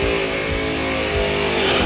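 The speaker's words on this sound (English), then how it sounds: "Listen to this conversion burnout." A 1967 Chevy Camaro drag car with big tires and flat exhaust revs hard during a burnout, a loud, close, sustained engine roar with no voices over it.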